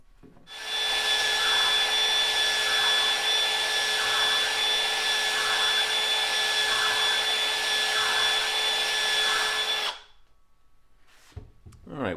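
A flex hone whirs steadily inside the cylinder chamber of a Ruger single action revolver, driven by a drill in a continuous loud high-pitched run of about nine seconds that cuts off abruptly, followed by quiet handling.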